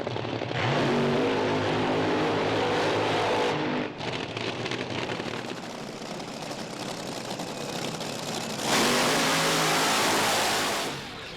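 Top Fuel dragster at the Perth Motorplex quarter mile, a loud broadband engine roar that surges, dips briefly and returns as an intense blast near the end.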